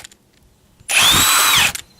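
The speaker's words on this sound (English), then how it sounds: "because I have an impact gun" A pneumatic impact gun with a Milwaukee 22mm socket spins off a front-wheel lug nut on a Ford Econoline E250 in one loud, sustained burst of about a second, close by, with no talking.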